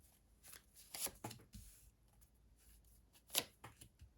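Cards being shuffled up close, with quick riffling bursts and soft taps between them, louder near the middle and end.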